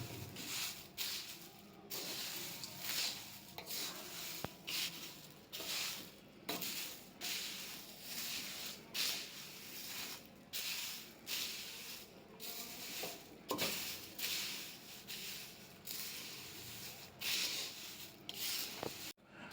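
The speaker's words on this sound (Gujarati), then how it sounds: "આને બધું બરાબર હળવા હાથે મિક્સ કરી લઈશ પૌવામાં" Poha chevdo is gently hand-mixed with peanuts, roasted chana dal and shredded coconut, giving a dry rustling and scraping of flakes that rises and falls in repeated strokes and stays soft and close.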